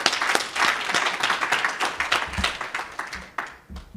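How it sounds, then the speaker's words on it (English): Conference audience applauds a speaker, quick dense claps, moderately loud and fairly close, thinning out and stopping after a few seconds. "Jürgen, can we please give him a resounding round of applause?"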